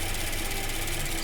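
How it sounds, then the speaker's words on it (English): A car engine idles steadily right after an oil change with Liqui Moly 5W40 and Ceratec, a loud, even hum close to the microphone with no talking. "the engine seems to be idling"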